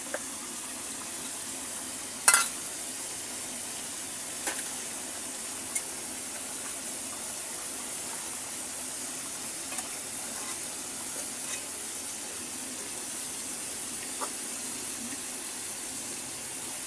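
Chopped tomato cooks in a pan of rohu fish head muri ghonto, producing a steady sizzle with occasional scrapes and clinks of stirring, one sharper knock near the start.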